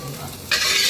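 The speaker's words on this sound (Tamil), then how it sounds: "பன்னீர்லாம் ஃப்ரை பண்ணி எடுத்தாச்சு" Paneer frying in a pan: a quiet stir at first, then a loud, steady hiss of sizzling oil takes over for the rest, close and continuous with no talk.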